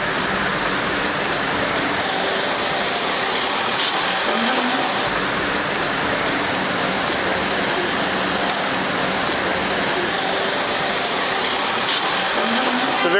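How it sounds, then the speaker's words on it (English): Steady, loud roar of a busy Manhattan street in New York City heard from a bicycle, with continuous passing car and engine noise and no clear talk. "It's a very busy street."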